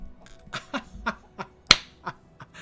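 A Guild Wars 2 character's clapping emote, a run of several sharp, quick hand claps in uneven rhythm with one louder crack near the middle, fairly close and set against faint game ambience.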